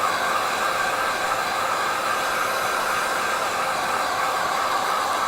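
A hair dryer blows a steady, loud, close whooshing hiss over a watercolour painting, drying the wet paper continuously with no break.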